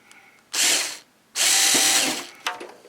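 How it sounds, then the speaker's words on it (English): Two loud, close bursts of a power drill boring through material, separated by a short pause, then a brief final whir. "now drill your hole through there."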